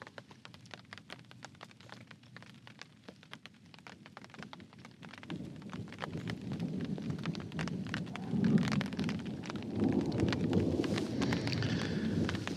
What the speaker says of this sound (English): love the sound of the rain and the thunder